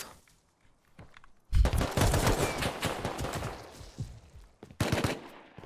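Dense AK rifle fire in an online shooter game, with a loud sustained burst of rapid shots, a short gap, then another burst, heard close and without talk.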